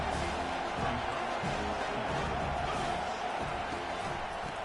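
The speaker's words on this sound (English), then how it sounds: "This crowd bringing the energy and noise early." Stadium crowd noise from the College Football 25 video game, a dense, steady roar of cheering fans filling the whole stretch at constant loudness with no clear breaks.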